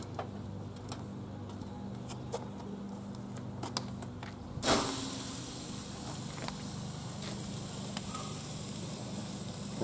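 A tri-tip sirloin steak lands on a hot grill grate over a post oak fire, a sharp onset of steady sizzling that follows faint scattered clicks and continues close and even.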